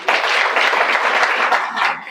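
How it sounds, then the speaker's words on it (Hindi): Audience applause at a Brahma Kumaris spiritual talk in Radaur, Haryana: a dense, continuous crowd clapping that stays steady and loud for about two seconds, with no voices standing out. "ताली तो बजाओ।"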